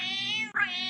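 A pet cat meows in a short recorded clip, one drawn-out tonal meow that dips briefly and rises again, clear and close with no talking.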